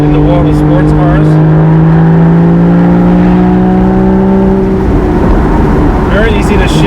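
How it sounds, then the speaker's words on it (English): Porsche Boxster Spyder sports car with a manual gearbox, its engine holding a strong, steadily climbing tone before dropping away into a rougher rumble as it shifts down, loud from the cabin, with talking over it. "It's got auto rev match for the downshift. That's the car doing it, not me."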